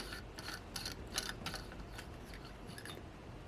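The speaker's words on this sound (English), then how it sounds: "this top part here screws on to this part. Let's give that a try and see. Yeah, that part is unscrewing." The threaded top part of a lamp switch socket being unscrewed by hand, giving a soft, continuous scraping and rubbing with small ratchety clicks, close up and steady with no talking.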